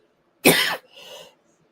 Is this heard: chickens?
no